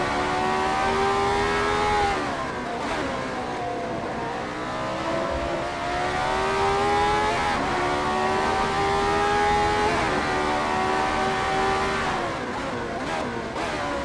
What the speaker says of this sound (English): On board with Watson as he has closed that gap up to Chris Moses.